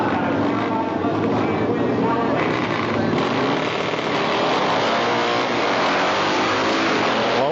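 Harley-Davidson drag motorcycles race down a dragstrip in a 1995 AHDRA all-Harley event, making a loud, continuous, roaring engine blare. An announcer talks over the top throughout.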